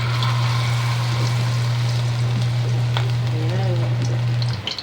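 Food frying in hot cooking oil, a steady close sizzle and crackle running throughout under a constant low hum, fading out at the very end.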